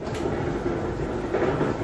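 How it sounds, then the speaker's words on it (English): An 8-year-old LG clothes dryer running with worn wheels, a loud, steady rumbling drone with a rhythmic rattling churn that persists evenly throughout. "Yes, that is the sound of our LG dryer after 8 years,"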